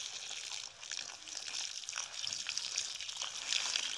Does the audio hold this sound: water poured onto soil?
yes